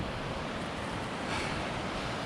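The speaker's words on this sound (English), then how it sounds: "Waterfall down there going through that gorge." Waterfall pouring through a rocky gorge in the Arizona mountains between Crown King and Friendly Pines, a steady broadband rush of falling water heard from a distance above, mixed with wind, with no voices.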